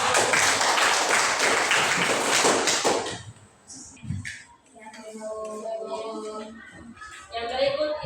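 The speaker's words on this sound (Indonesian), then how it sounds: "Berikan tepuk tangan" Classroom applause after a student presentation: a dense, loud burst of clapping for about three seconds that cuts off abruptly, followed by quieter classroom shuffling and voices.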